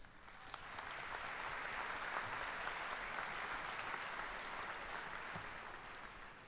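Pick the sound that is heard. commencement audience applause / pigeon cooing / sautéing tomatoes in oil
commencement audience applause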